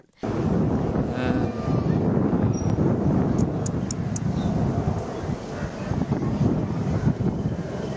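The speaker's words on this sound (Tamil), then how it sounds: "வானில் சீறி பாய்ந்த போர் விமானங்கள் மற்றும் ஹெலிகாப்டர்கள்" Loud fighter jets and military helicopters roar overhead at an Indian Air Force airshow in Tambaram, a broad rushing drone with wind buffeting, sustained throughout and mixed with distant crowd noise.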